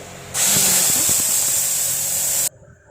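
Black cumin lightly frying in a pan for a ridge gourd mash: a loud, close, steady sizzling hiss that bursts in abruptly, holds for about two seconds, then cuts off sharply into near silence.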